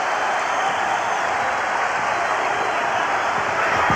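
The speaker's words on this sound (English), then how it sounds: "Crowd on its feet." A packed arena crowd at an NBA Finals game between the Philadelphia 76ers and Los Angeles Lakers roars on its feet, a dense, continuous wash of cheering that holds steady and swells slightly at the end.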